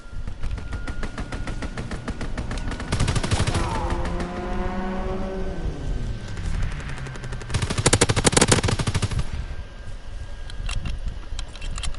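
In the Call of Duty WW2 video game, rapid bursts of gunfire rattle while a fighter plane's strafing run sweeps past, its engine pitch falling, and then heavy firing swells again.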